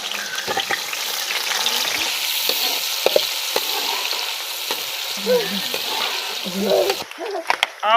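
Tadka for vegetable rice frying and being stirred in a pot, a steady close sizzle with scraping stir strokes and brief clinks throughout, growing busier near the end.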